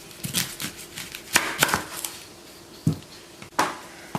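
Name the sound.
knife chopping onion on a board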